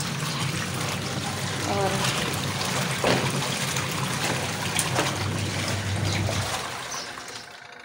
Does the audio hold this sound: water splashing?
yes